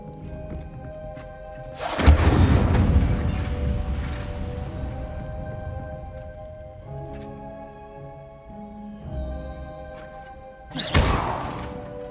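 A fire spell is cast in the video game Hogwarts Legacy, producing two sudden loud whooshing bursts with a thudding impact. A sustained tonal musical score plays between the bursts.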